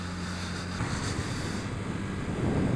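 Steady, blustery wind buffets the microphone with a constant low rumble and broadband roar, swelling slightly toward the end, while riding a Honda CBF125 motorcycle.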